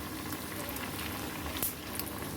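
Vadis frying in oil in a pan until golden underneath, a steady dense bubbling sizzle throughout with a couple of brief pops near the end, close and fairly quiet, no voices.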